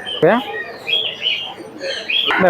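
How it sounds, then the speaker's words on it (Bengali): Afsan pigeons at the Mirpur 1 pigeon market in Dhaka give soft rising coos and chirps nearby, a few drawn-out calls over a steady background of market noise. "এটি আফসান কবুতর"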